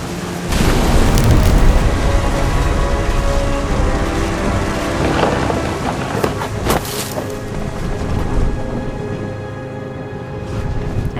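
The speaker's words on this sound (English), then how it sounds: "The thunder sounded much too close and full of angry power" Thunder in the video game What Remains of Edith Finch, a loud, sustained low rumble with rolling booms and sharper cracks near the middle, continuous throughout without speech.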